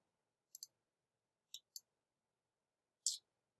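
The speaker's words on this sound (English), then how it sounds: "I'm going to click on this now." Computer mouse clicks, faint and close, in a quiet room: a quick double click, two separate single clicks, then one more click.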